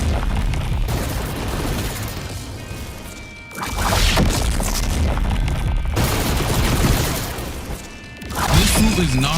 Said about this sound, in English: watch as I use the third Z ability, the Z3 Dragon, in the same way